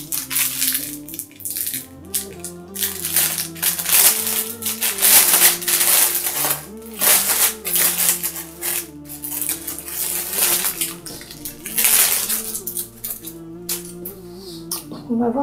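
A packaged veil being unwrapped from a cardboard box, a steady busy stream of crinkling, rustling and crackling packaging noise that carries up close throughout, with a humming tonal background underneath.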